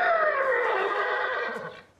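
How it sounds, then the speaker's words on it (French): A thirsty horse in a stable neighs loudly and close, one long whinny sliding downward in pitch before fading out at the end. "Ça, c'est le cheval qui a soif."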